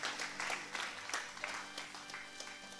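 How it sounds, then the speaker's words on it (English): Applause from an audience for graduating students at a school graduation ceremony, a dense steady patter of many hands clapping throughout, moderately distant, with faint voices mixed in. "Can I get a round of applause for all of the students?"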